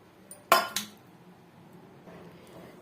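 Carrot pieces drop into a metal kadai pan with a sharp clatter, a second smaller clink following, then faint rattling at low volume.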